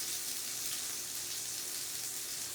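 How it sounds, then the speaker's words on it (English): A steak sears in a hot pan with a dense, even hiss of sizzling fat that holds steady and fairly faint for the whole moment, with no talk. "we're going to slide our steak into this pan here, and we're not going to touch it. We're going to let it crisp"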